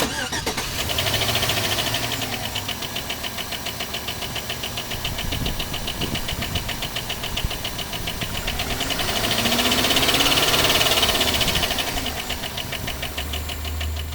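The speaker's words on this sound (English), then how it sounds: "I'm going to play a quick audio of what it would sound like if there is some type of knocking noise going on with the engine." A used car's engine runs with a knocking fault, a steady close mechanical drone with a continuous rapid ticking rattle that swells toward the end, no talk.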